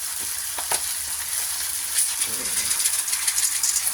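Chicken pieces, ginger and whole black peppercorns hit hot oil in a pan for adobo, giving a steady close sizzle with a few sharp crackles and clatters. A voice talks throughout.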